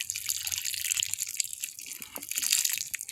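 Rainwater poured from a pot into a plant pot holding a Meyer lemon cutting, a close, trickling splash with small drips, steady for a few seconds without any talking.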